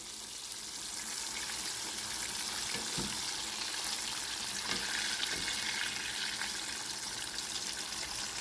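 Fish shallow-fries in a pan over medium-high heat, giving a steady close bubbling sizzle throughout with a couple of soft low knocks, no voices.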